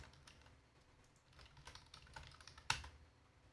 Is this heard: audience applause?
no